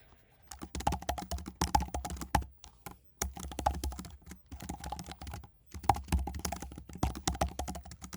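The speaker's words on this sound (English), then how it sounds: "let's write the code to implement this" Code being typed on a computer keyboard: steady, close runs of rapid key clicks broken by short pauses, with no voices.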